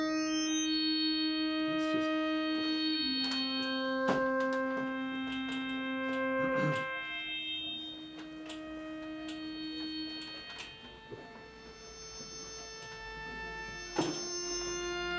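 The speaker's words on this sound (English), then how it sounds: "it doesn't have to be the sine wave sound" Clean sine wave tones from an Expert Sleepers Disting synthesizer module, where steady pitched notes step and overlap to blend through the harmonic series, with a few soft thunks and a brief sweep, no voices.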